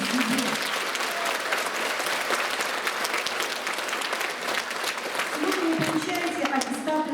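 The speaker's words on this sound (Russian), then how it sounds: "Вот здесь нужно аплодисменты и погромче." Sustained audience applause fills a graduation ceremony where eleventh-grade students receive their school-leaving certificates, a dense steady clapping from a large crowd lasting throughout with little variation in loudness.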